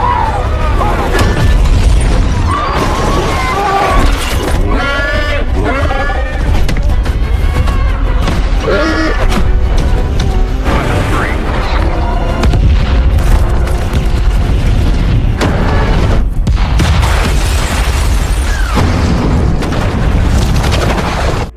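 Bombs dropped by fighter jets explode in a relentless barrage of loud, deep booms and rumbling blasts, one after another for the whole stretch, with no pause.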